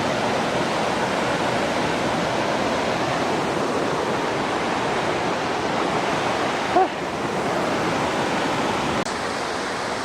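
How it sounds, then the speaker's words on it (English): Gitgit Waterfall in Bali, a tropical cascade near a village, gives off a steady, dense roar of falling water that holds nearly constant for the whole stretch, with only a brief faint knock partway through. "There is Gitgit Waterfalls."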